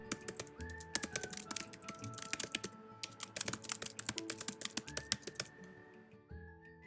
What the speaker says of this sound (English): Welcome back to another episode of me typing out The Great Gatsby.